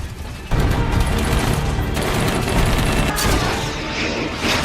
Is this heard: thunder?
no